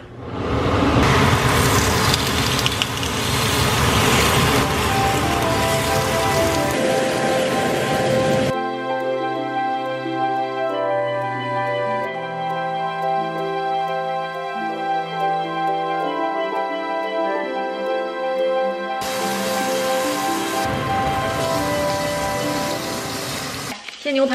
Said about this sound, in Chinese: 这边铸铁锅在预热好了，我就加一点点油，看这锅开始冒烟了，这个时候就可以下牛排了